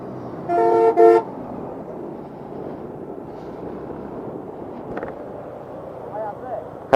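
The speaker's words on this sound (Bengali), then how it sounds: "বাস আইতেছে, কোনো জায়গায় যাব না।" A bus on a hill road gives two short, loud blasts of its horn close by, then its engine rumbles on under wind noise on the microphone.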